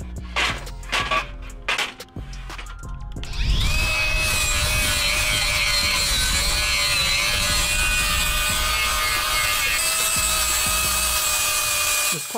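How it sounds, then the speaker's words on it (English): An angle grinder fitted with an abrasive pad strips mill scale from steel farmhouse table legs, a loud sustained whining grind with a steady high tone after a few short clanks and bumps of handling. "The grinder with a abrasive pad makes quick work of that"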